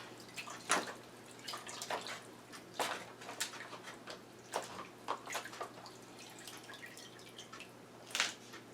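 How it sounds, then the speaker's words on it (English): A cooked lobster is dipped and rinsed in water, making faint irregular splashes and drips with quiet trickling between them. "I'm going to dip that in water and get that cleaned up"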